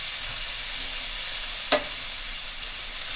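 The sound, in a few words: herbs sautéing in a pan for Jamaican curry fish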